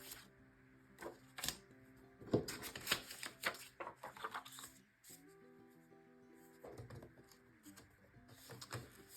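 Scrap paper being cut down to a 4x6 photo mat, a run of close, crisp slicing and shuffling sounds from about 1 to 5 seconds, then quieter handling with a few soft rustles near the end.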